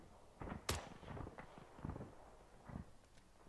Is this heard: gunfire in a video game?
yes